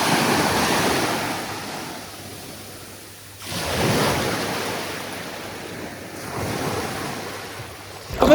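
Sea waves break and wash against large rocks on a Greek beach in two or three long, loud surges, each swelling and fading with a hollow roar and no voices.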